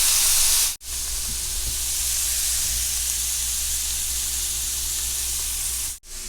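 Frozen taco meat sizzles in a pan on medium heat, a steady loud hiss of frying broken by two brief dips where the sound cuts out.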